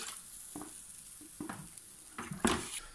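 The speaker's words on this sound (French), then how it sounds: "Donc là, elle est en train de refroidir la poêle." A hot frying pan dipped into a bucket of water gives several short, soft hissing sizzles with light splashing, spaced about a second apart.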